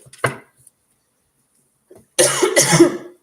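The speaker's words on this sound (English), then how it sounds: "Excuse me for the coughing." A single sharp cough, then a short pause and a harsher burst of coughing and throat noise, close and fairly loud.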